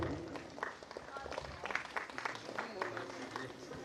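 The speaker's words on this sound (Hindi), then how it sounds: "तालियों के साथ सभी विद्यार्थियों से गुजारिश करती हूँ आप अभिनंदन करें।" Students at a college national seminar applaud together, a dense and fairly faint wash of clapping from a crowd in a hall, with a voice talking beneath it.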